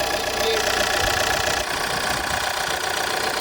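An Opel Insignia 2.0 CDTI diesel engine runs at idle during injector cleaning, giving a loud, steady, close clattering drone with a faint knocking texture throughout.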